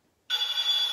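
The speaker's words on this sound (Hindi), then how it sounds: "ऑफर फोन आ गया, फोन आ गया।" Telephone bell ringing on a game-show set, a sudden loud electronic ring cutting in from silence and holding steadily for the rest of the moment.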